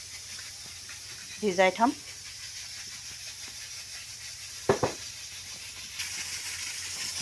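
A pressure cooker boiling potatoes gives a steady, faint hiss of steam that runs the whole time, with brief bursts of talk over it.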